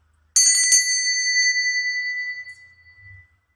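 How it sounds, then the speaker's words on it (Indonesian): A single bright bell chimes once with a sharp strike, then rings out and slowly decays over a few seconds, alone and fairly close. "saya akan memulai dengan tanda lonceng berbunyi"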